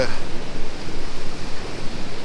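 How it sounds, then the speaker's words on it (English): Water rushes over a weir on the River Meuse, a loud, steady broadband roar with no pauses, heard close up and mixed with wind buffeting the microphone. "one of the weirs on the Meuse"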